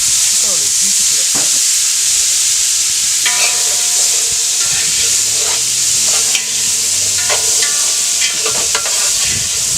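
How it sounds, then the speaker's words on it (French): Papayas drop into hot oil in a cooking pot after sausages, giving a loud, continuous sizzle and hiss with occasional stirring scrapes and clinks throughout. "on va faire frire les papayes maintenant"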